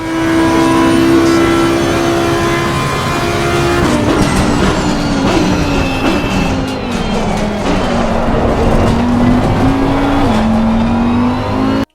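Race car in the Assetto Corsa VR racing game, a loud continuous engine drone that rises in pitch, drops sharply at gear changes and climbs again through several shifts, with no speech over it.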